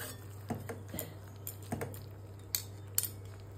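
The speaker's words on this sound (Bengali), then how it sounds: "এবার দিয়ে দিই ঢাকা" A lid goes onto a cooking pot of vegetables with faint, light metallic clinks and taps scattered over a few seconds, each one short and quiet against a low background hum.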